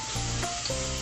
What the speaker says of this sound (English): 2 to 3 tablespoons of olive oil, sauteed onion,